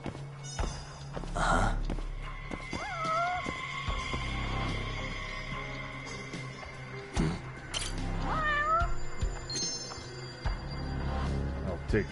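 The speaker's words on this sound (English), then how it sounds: "There's a cat hiding." A cat meows several times, with a couple of drawn-out, wavering cries standing out clearly against a quiet indoor background with faint movement and footstep-like thuds.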